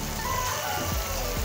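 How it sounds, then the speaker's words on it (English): Water pours steadily into a pot of chicken curry, a continuous splashing rush up close, heard alone. "So quickly, I will add water to it."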